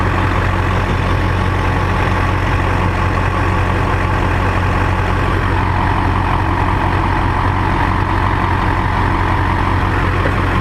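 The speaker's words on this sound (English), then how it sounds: "Most of that is from the rattling of the truck though" A Duramax diesel pickup engine runs at a steady idle, loud and close, with a deep, even throbbing and a constant mechanical rattle from the truck that holds unchanged for about ten seconds, with no talk.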